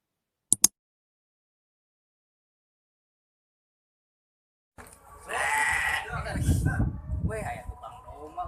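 Sheep bleating outdoors, a couple of sharp clicks, then after a silence a loud nearby bleat-like cry mixed with rustling and handling noise that continues to the end.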